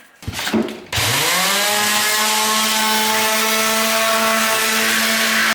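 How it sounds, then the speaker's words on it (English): An electric sander fitted with stripping sandpaper starts up after brief handling noise and runs loud and steady, a continuous high whirring drone as it strips coving adhesive off a ceiling during a home renovation. "we're going to try some stripping sandpaper on the sander today to see if that's a bit quicker"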